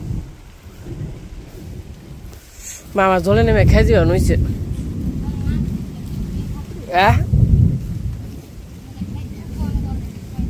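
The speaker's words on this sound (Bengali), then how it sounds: "বৃষ্টিও নামছে।" Rain falls over a village with a low, rumbling thunder backdrop, a dense continuous wash beneath someone speaking at intervals.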